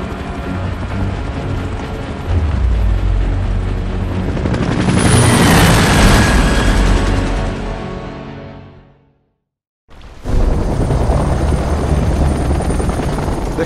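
A helicopter in Gears of War: Judgment roars loudly and close, its rotor wash swelling to a whooshing peak before cutting out briefly, then the heavy engine drone returns at full strength.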